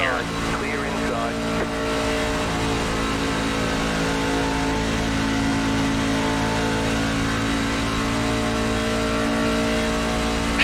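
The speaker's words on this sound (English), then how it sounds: "As cars just fly past me that are just beat to hell" NASCAR Truck Series race trucks in iRacing at Michigan International Speedway, a steady loud engine drone with rising revs as trucks sweep past close by, continuous for the whole stretch.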